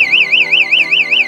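A bike anti-theft alarm from a central locking kit wails loudly, its warbling siren tone rising and falling in steady quick cycles, alone with no talk.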